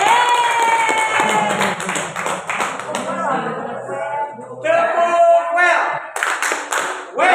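A group claps hands in quick, rhythmic bursts during a workshop session, mixed with voices chanting and talking over the claps.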